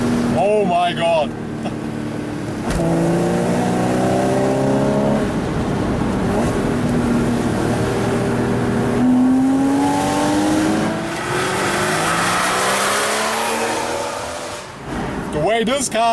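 Loud, close acceleration from a Porsche Boxster S 981 with PDK gearbox, its engine screaming up toward the 7,500 rpm redline through repeated rising pulls and quick gear changes, with a voice briefly over the roar.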